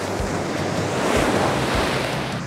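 Ocean surf washes onto a beach in a steady, loud roar of breaking waves, with wind buffeting the microphone throughout and no voices.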